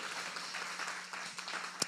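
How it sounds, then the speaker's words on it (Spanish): A church congregation applauds continuously, a dense wash of clapping heard from a moderate distance, with a sharper clap near the end. "Denle un aplauso al Señor"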